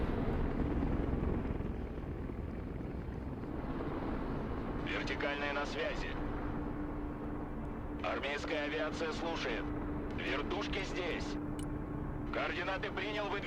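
A Mi-26 heavy helicopter flying low over a battlefield in the game Broken Arrow gives a continuous loud rotor and engine drone with a steady hum throughout, while a voice talks in bursts over the noise.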